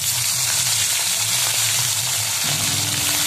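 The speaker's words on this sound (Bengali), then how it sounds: "এবার মাছের মুড়োটা ভেজে নেব।" A fish head fries in a pan over a wood-fired clay stove, giving a loud, dense, continuous sizzle with no voices.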